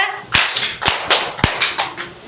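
A school class claps hands in a counted rhythm, a group pattern of sharp, distinct claps in quick pairs and triplets, close and crisp with a short echo and no talking.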